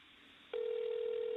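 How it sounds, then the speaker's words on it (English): An outgoing telephone call starts ringing: after a brief quiet hiss, a steady, continuous ringback tone sounds clearly and evenly until the end. "It's ringing."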